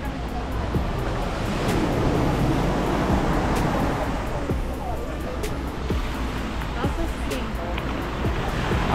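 Ocean surf rolls and washes steadily onto a beach in Colombia, a loud continuous roar of breaking waves with wind buffeting the microphone.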